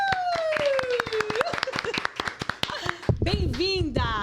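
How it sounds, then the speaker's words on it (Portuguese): An audience claps to welcome a speaker onstage at an event, with sharp, uneven handclaps throughout, rising whoops or whistles, and voices calling out over the applause. "por favor, bata muita palma, porque a gente aplaudir de pé"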